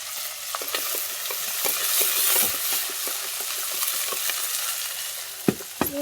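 Fish frying in a pan, stirred and turned with a spoon: a steady close sizzle of hot oil carrying irregular scraping clicks, with no voices.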